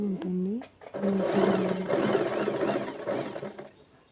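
A sewing machine stitches a round shape on a girls' frock, running in a loud continuous whir close by after a brief voice at the start, then winding down at the end.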